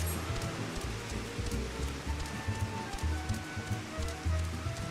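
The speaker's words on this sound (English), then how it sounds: "Rain in this game?" Rain falls in the Final Fantasy XIV game world, a continuous patter mixed with low, uneven ambient rumbles and thuds, with no voices over it.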